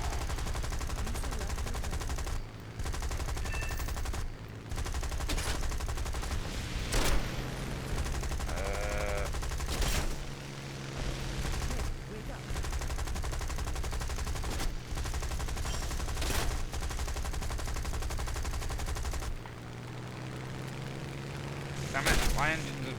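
Aircraft machine guns in the War Thunder air-combat game fire in repeated bursts over steady engine drone, with a voice talking over the action.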